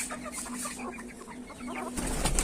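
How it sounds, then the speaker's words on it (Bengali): Poultry chickens cluck in a steady run of short, soft calls, with several birds close together and a brief louder rustle at the end. "এটা কিন্তু পোল্ট্রি মুরগি"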